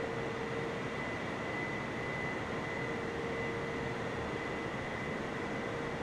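Boeing 747 engines in a flight simulator game, a steady, fairly quiet broadband roar with a faint constant whine held throughout, no voices.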